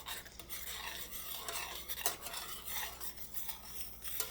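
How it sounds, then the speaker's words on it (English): Dissolving gelatin is stirred with a metal spoon, making a faint, continuous scraping and swishing with occasional light clinks against the container, quiet and close. "So you stir that up and make sure it dissolves."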